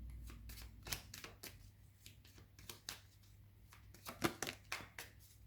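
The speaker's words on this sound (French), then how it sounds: "Je vais rajouter une carte avec le Béline, tiens." Tarot cards are handled and shuffled at close range, giving a series of sharp, papery flicks and snaps in uneven bursts, fairly quiet against a low steady hum, with no speech.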